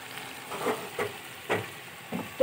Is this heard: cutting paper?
no